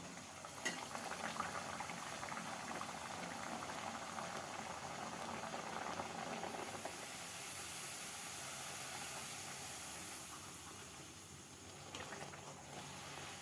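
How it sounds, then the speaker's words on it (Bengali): Luchi, a puffed flatbread, deep-frying one at a time in hot white oil in a kadai, giving a steady, dense bubbling hiss that runs throughout with no talk. "কড়াই আমি সাদা তেল গরম করে নিয়েছি এরপর আমি লুচিগুলো একটা একটা করে ছেঁকে নেবো"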